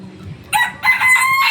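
On a poultry farm raising three-month-old broiler chickens, a rooster crows loudly and close in two bursts, with clucking and a low, faint background hum.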